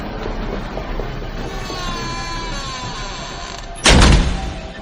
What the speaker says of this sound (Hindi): कमरे का दरवाजा जोर की आवाज से अचानक बंद हुआ